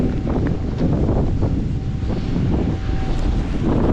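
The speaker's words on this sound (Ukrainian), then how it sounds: "Опять такий вітрюган, але теплий вітер." Strong, warm wind gusts outdoors at a blueberry field, roaring steadily across the microphone with rumbling buffeting and no talk.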